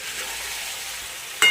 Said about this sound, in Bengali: এবার ওটাকে ভালো করে মিক্স করে নেব, নেড়ে চেড়ে।